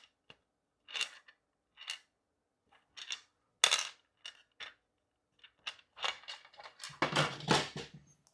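Small screws for a mini ITX gaming PC build dropping and clattering onto a hard surface, a series of sharp, bright metallic ticks and rattles scattered over several seconds that bunch into a busier jangle at the end.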